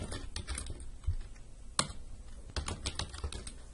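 Rapid typing on a computer keyboard while entering details during a software install, a steady run of close, crisp key clicks with a few louder strokes, no voices.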